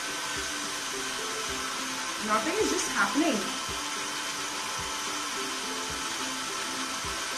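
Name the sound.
hair dryer blowing near hair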